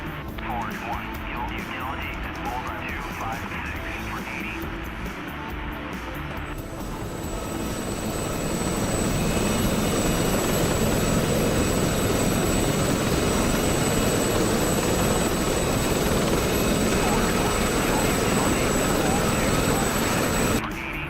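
Gazelle helicopter in a video game, its rotor and turbine roar rising in the second half into a loud, steady wash, with people talking over it early on.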